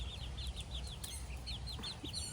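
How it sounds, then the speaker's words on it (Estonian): A pet rooster clucks softly in a quick run of repeated short notes, heard faint and a little distant over a low, steady background rumble. "see on minu lemmikukk. Minu väike kukekene"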